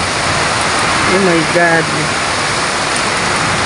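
A heavy afternoon downpour of rain pounds down as a loud, dense, unbroken hiss close by, while a voice briefly exclaims partway through.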